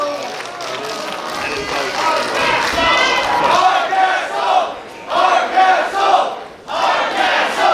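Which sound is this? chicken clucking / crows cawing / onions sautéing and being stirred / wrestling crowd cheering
wrestling crowd cheering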